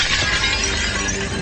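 A large pane of glass shatters after a mannequin's neck strikes it at 40 mph, a loud, dense crash of breaking glass that fills the moment without any talking.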